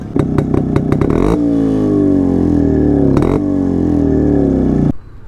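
A vintage motorcycle engine, an old bike with luggage carriers and can holders, idles and revs steadily at close range with a deep, loud throbbing rumble, broken by a few sharp throttle blips.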